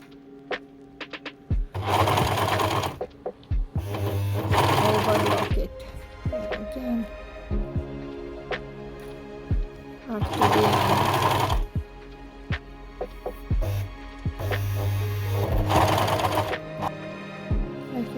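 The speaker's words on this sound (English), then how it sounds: "now I will overlock it" An overlocker serges the side seam of a baby's hat in four loud, buzzing bursts of a few seconds each, separated by quieter pauses with small clicks and fabric handling.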